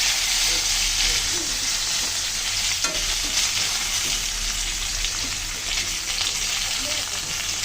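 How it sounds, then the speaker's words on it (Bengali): Fish frying in hot oil for a plantain fish curry, a loud continuous sizzle and crackle with occasional spatula scrapes as pieces are lifted out, and no talking. "মাছগুলো তো সুন্দর করে ভেজে নিলাম, এখন তুলে নিচ্ছি"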